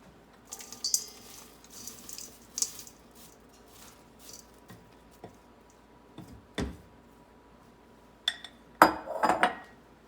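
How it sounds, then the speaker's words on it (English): Cookie batter for healthy trail mix cookies being mixed in a bowl, with intermittent clinks and scrapes of a utensil against the bowl and soft squishy sounds, louder clattering bursts near the end; no talking. "Mix this guy up and add our dries."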